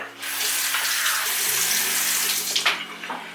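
A bathroom sink tap runs steadily for several seconds while a face is washed, a close, continuous splashing rush with brief disturbances near the end, and no voices.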